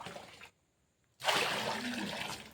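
Liquid organic fertilizer made from cow dung, rice water and jaggery is poured out in a soft splashing trickle, a short burst, then a pause, then a steadier, louder pour at close range.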